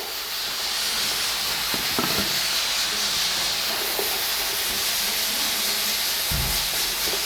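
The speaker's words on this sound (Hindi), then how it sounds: "अब इनको थोड़ा सा लाइट फ्राई करेंगे।" Cubed onions, tomatoes and capsicum are lightly fried in a pan, a steady broad hiss of sizzling oil with a few soft knocks and clinks of the cookware, close and unbroken, with no talking.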